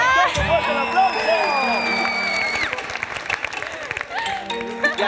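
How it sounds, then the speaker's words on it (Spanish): A studio audience on a Bolivian TV game show applauds, with music and voices blending into the clapping for several seconds. "¡Un aplauso!"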